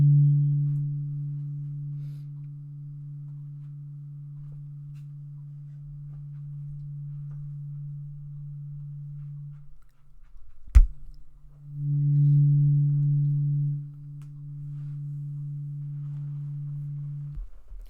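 Weighted tuning forks hum with a steady, sustained low tone that fades, breaks off with a sharp tap near the middle, then swells again and continues alone until a sudden stop.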